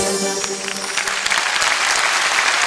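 A large concert audience in the Kremlin applauds loudly after a Caucasus-themed song at an Ingushetia anniversary concert. Dense, steady clapping fills the whole stretch, with a faint tail of the music at the start.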